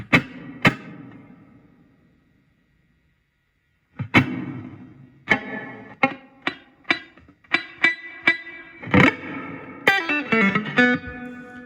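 Electric guitar played through a Fender Champion 20 amp with reverb on: a few plucked notes ringing out and decaying, a pause, then a run of sharp single notes and strummed chords, each trailing a short wash of reverb.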